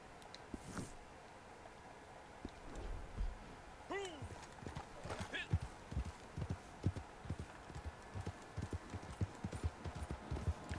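Horse hooves in the video game Red Dead Online clip-clop in a steady, close, rhythmic gait with a brief whinny early on, while someone speaks Spanish over part of it.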